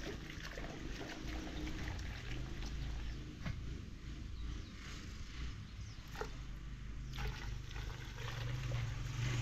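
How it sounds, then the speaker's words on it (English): Fuel pours into a Honda motorcycle's tank as a faint, steady trickling flow over low background rumble, continuous and fairly distant-sounding, with no talking. "I'm just gonna fill the Honda up"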